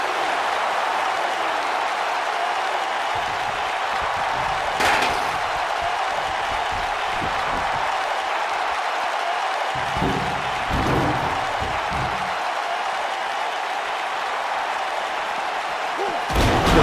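Steel steps slam into a wrestler in the WWE 2K19 video game, a heavy thud that lands over a constant crowd roar, followed by several more impacts and a late crash.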